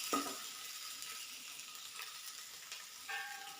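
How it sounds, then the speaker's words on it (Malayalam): Mashed potato filling for aloo paratha is stirred in a pan, with a soft steady sizzle and a few faint spoon scrapes, quiet and with no talking. "നല്ലോണം ഒന്ന് മിക്സ് ചെയ്ത് കൊടുക്കാം."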